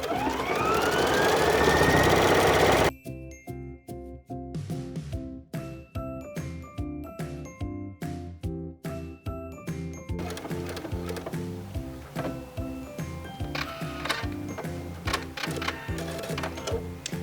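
A sewing machine stitches decorative heart patterns onto a tote bag, a rapid mechanical chatter in short repeated bursts after a brief loud opening.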